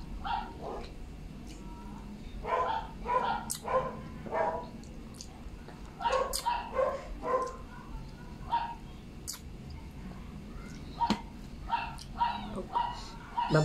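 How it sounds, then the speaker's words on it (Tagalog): Small puppy barking in short repeated bursts of high yips, moderately distant, over a low outdoor background hum. "May nakawala na aso na maliit ah"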